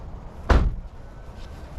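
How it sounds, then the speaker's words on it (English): A single solid thud as a vehicle door is shut during a close-protection escort demonstration, one short near impact followed by quiet interior hum. "Close this door a second."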